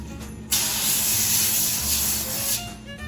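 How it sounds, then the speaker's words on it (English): One continuous hiss of non-stick cooking spray on a foil-lined 10 by 15 inch baking sheet lasts about two seconds, close and loud, in a quiet kitchen. "Remember to spray this with a non-stick spray so it doesn't stick."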